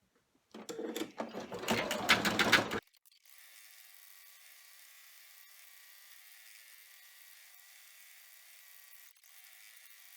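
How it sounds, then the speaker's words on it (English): Embroidery machine stitching a small stuffed toy piece in a tiny 4x4 hoop, a rapid rhythmic whir of needle strikes for about two seconds, then stopping and leaving faint steady hum. "we are going to take it back to the machine and run the stitches that will keep these together"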